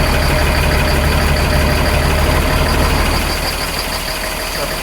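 A truck engine idles steadily while warming up after a cold start in freezing Canadian weather, a continuous loud low rumble that fades slightly toward the end.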